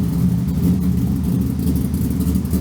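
A Lincoln Continental with a swapped-in V10, rear-wheel drive, creeps backward in reverse on its first drive, its engine rumbling steadily and fairly loud throughout, with no talk over it.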